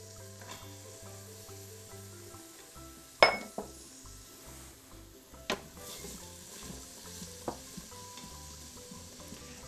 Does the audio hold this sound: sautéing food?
yes